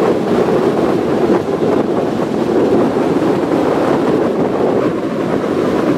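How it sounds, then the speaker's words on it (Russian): Strong wind at a sea beach, about 25 metres per second, roars and buffets the microphone continuously, with a broad rushing noise like surf underneath and no voices. "Очень сильный ветер в море."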